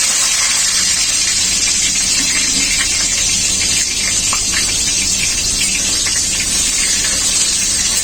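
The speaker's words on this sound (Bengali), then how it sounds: "তেল খুব ভালোভাবে গরম হয়ে গেছে টমেটো কুচি দিয়ে দেবো" Chopped tomatoes are dropped into well-heated oil and fry with a steady, loud, bright sizzle. The hiss holds without a break for the whole stretch, with small crackles scattered through it.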